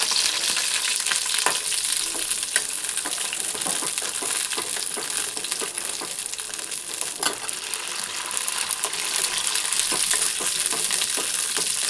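Cut green chillies frying in hot oil, a steady dense crackling sizzle with scattered pops throughout, close and continuous with no talk.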